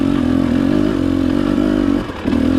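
A 2018 TE250 two-stroke dirt bike with a jet kit chugs slowly uphill in second gear on light throttle, its close engine note steady and low, with a brief dip as the clutch is tapped.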